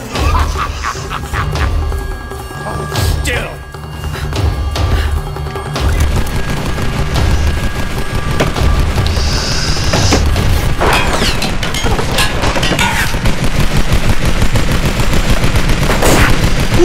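Enemy gunfire in the Tomb Raider video game, dense bursts of loud shots and rapid automatic fire with crashing impacts, continuous and intense across the whole stretch with no talking.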